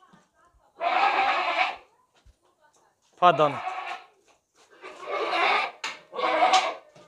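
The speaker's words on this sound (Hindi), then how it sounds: "और ये घरेलू बकरा है, घर में रखने वाला बकरा है। ये अकेला होने की वजह से थोड़ा शोर कर रहा है" A domestic sacrificial goat, a heavy two-toothed buck kept at home and left alone, gives several loud, close bleats with short pauses between them, and someone speaks briefly.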